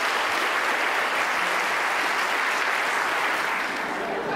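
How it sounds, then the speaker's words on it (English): A steady, dense wash of audience applause fills the hall at the 2013 PEN American Center Literary Awards ceremony, sustained and even throughout with no voices. "Let's have a nice round of applause for Penn"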